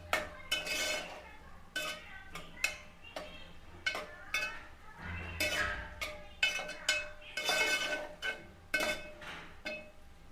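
A spoon stirs turmeric, cumin-coriander masala and salt in a cooking pan, making a quiet series of irregular metallic scrapes and clinks close by.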